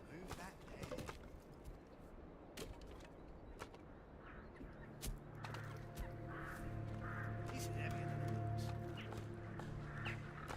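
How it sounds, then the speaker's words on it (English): Crows caw a few times in the medieval village-building game Manor Lords, fairly soft amid ambient game sounds, with a low sustained musical hum building in the background. "every time I hear crows cawing in this game"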